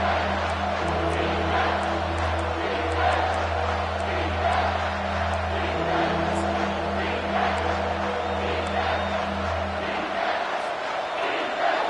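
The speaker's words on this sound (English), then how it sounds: "The crowd getting behind this defense as they try to get a stop in the red zone." Stadium crowd noise from a video game football broadcast, a steady loud roar with rising cheers backing the defense during a red-zone stand on third and short, sustained throughout before dropping off near the end.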